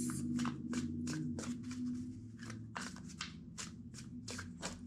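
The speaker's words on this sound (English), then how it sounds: "Two more shuffles." Tarot cards shuffled by hand in a steady run of crisp riffling bursts, close and moderately loud over a low background hum, with no talking.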